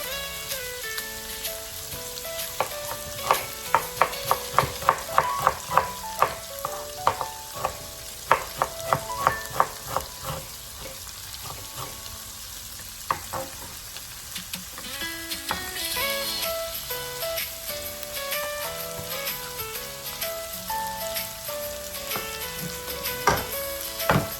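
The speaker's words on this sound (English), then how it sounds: "Cooked on a medium heat for 10 to 15 minutes, stirring occasionally." Onions, raw and with other ingredients, frying on medium heat in a pan for pork vindaloo, with a steady sizzle under repeated scraping and clattering stirs of a spoon, close and fairly loud, no talk.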